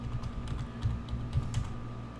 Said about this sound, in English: we'll go ahead and type in our super secret password